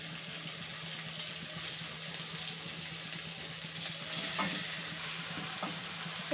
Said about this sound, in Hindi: डाल के अच्छे से मिक्स कर देंगे।